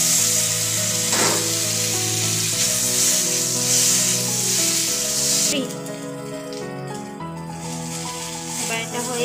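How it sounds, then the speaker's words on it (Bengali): Boiled potatoes frying in oil in a pan give a loud, continuous close-up sizzle with some stirring, while a tonal background sound runs underneath. "এইবারে একটু তেল দিয়ে আমি আলুটা সিদ্ধ করে রেখেছিলাম আগের থেকে, এখন এটাকে একটু ভাজা করে দেব।"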